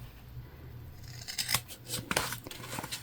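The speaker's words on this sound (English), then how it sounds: "We're going to cut our corners." Fabric scissors trimming the corners of a sewn fabric pouch, several crisp close snips clustered in the second half after a quiet start, with soft handling noise between cuts and no speech.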